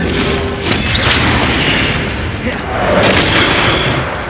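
A fire spell cast in the Hogwarts Legacy video game, a loud whooshing magical burst with booming impact swells rising and falling across the moment amid dense game effects.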